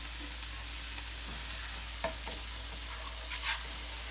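Onions cook slowly in a pan for a quick goulash, with a soft, steady sizzle and a few light scrapes and taps from a stirring utensil. A low hum sits underneath, and no one speaks.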